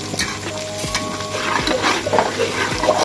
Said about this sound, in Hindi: 2 लौंग है और ये थोड़ी सी दालचीनी है। इससे शोरबे का जो फ्लेवर है वो बहुत ज़्यादा बढ़ जाता है, तो इनको हम थोड़ा सा रोस्ट करेंगे।